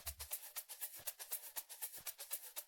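Another shaker loop from an Afrobeat drum track, steady bright rattles in a tight, even pattern, alone, with occasional soft low thumps beneath.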